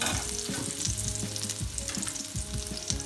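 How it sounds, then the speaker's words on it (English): Vegetables sauteing in a pan for stuffed onion, with a steady close sizzle and repeated stirring scrapes through the whole stretch, no talking. "Saute it nicely."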